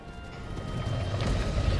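Horse galloping in a video game, a steady run of hoofbeats with a faint whinny over a rising rumble, close and building in loudness, no talk.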